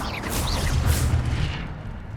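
The Incendio fire spell in Hogwarts Legacy lets out a loud, whooshing burst of flame with a booming low rumble that swells and then fades over about two seconds.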